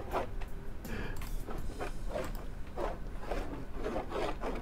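Sandpaper rubbing on a gun part in the Gunsmith Simulator video game, a repeated scratchy rasping in short strokes that is steady and fairly quiet, with no voices.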